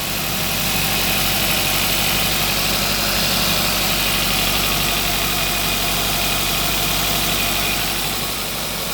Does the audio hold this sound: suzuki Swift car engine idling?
yes